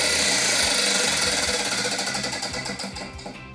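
A prize wheel spinning, its pointer ticking in a fast, loud, rapid rattle that gradually slows into distinct clicks as the wheel winds down, with no talk.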